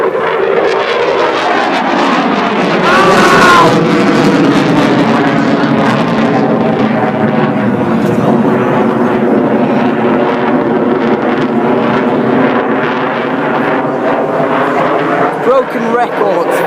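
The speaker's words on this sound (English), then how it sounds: "And now, the loudest jet has arrived." A loud jet aircraft roars past at the Southport Air Show in 2014, a continuous, very loud rush with wind buffeting the microphone and voices faintly underneath.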